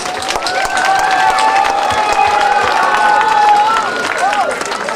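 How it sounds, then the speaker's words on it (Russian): Festival crowd applauding and cheering throughout, a dense steady wash of clapping with shouts and a sustained voice or tone riding over it, loud and close. "спасибо за аплодисменты"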